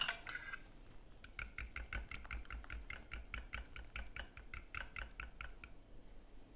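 A spoon stirring salt and fresh garlic into manti dumpling filling in a bowl, quick repeated clinks and scrapes against the dish, close and fairly quiet, in an irregular rhythm.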